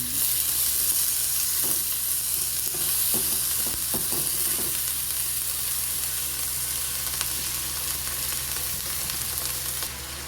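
Ground pork stirred and frying in a pan for tortang talong, a steady close sizzle with scattered scraping stirs throughout, no talk.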